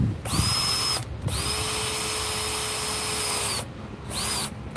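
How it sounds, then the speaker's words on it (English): A power drill on its drill setting whines steadily in two long runs with short pauses between, a high motor tone sustained for a few seconds each time. "Here's my drill."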